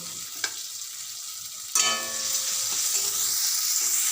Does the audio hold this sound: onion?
yes